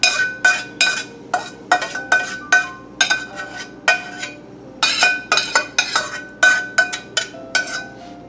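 A metal spoon clinks and scrapes in quick, irregular bursts against a fine chinois strainer while pushing bordelaise sauce through into a pan, with close, bright taps and short pauses between.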